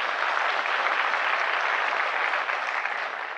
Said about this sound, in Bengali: কুলিন দেশাই নামে একটা হাততালি আমরা দিতেই পারি।